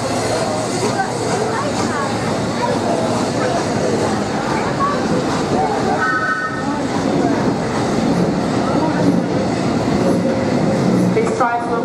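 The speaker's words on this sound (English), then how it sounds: "our steam train now departing" A steam locomotive train departs a London Underground platform, Metropolitan No. 1 on a last steam run, rumbling steadily with clattering wheels and a brief high squeal, busy station chatter and announcements throughout.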